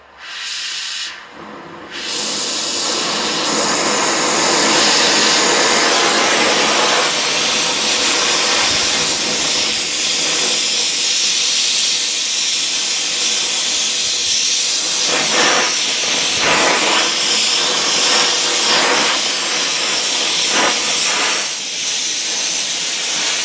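A torch roars with a steady, loud hiss as it heats a seized brake caliper slider pin, the flame noise sustained throughout after a brief start and a short break near the beginning.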